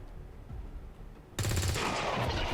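Soldiers open fire in XCOM 2: after a quieter stretch a loud burst of rapid automatic gunfire erupts abruptly and rattles on steadily to the end.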